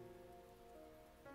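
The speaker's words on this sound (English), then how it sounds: "Also, the rain got louder." Steady rain on a surface, a sound effect from the visual novel The Fruit of Grisaia, hissing evenly with a slight swell in loudness near the end over a faint tonal background.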